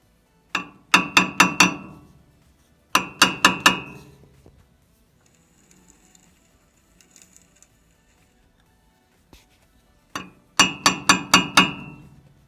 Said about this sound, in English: give it a whack and see if it'll move